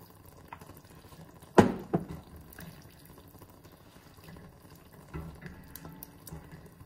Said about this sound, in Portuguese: Vou juntar água fervente